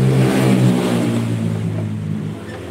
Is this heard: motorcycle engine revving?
yes